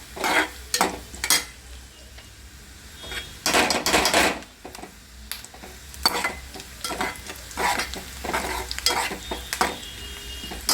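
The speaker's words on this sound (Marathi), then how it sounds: "हा कांदा भाजत आलेला आहे" Onions sizzle and crackle in a hot pan while a spoon stirs and scrapes at irregular intervals, close and fairly loud, with no talking, while cooking egg masala.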